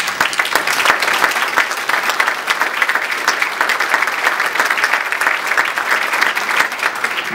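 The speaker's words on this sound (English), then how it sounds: "you will have to give a louder applause" An audience at a Rotary peace forum applauds in a loud, sustained burst of dense clapping that stays even from start to finish, with no voices standing out.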